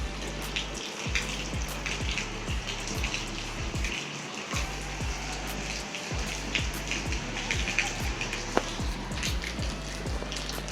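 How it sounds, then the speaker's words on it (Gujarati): Steady rain patters and hisses across a surface around a vehicle, a continuous wash of drops with a faint low rhythmic thumping underneath. "જોઈ શકો છો કે વરસાદ ચાલુ થઈ ગયો"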